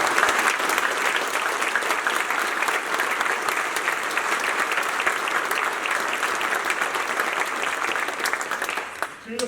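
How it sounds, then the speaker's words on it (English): Commencement ceremony audience applauding the graduates' families, dense sustained clapping from a large crowd that holds steady for about nine seconds before fading at the end. "So everyone, let's have a huge, huge round of applause for our families."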